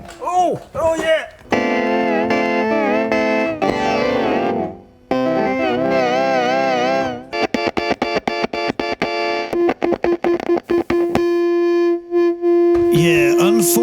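A buzzy Korg Delta analog synth with a faulty filter plays wobbling, sweeping notes, then choppy staccato bursts and a sustained tone, its timbre harsh and largely unchanging.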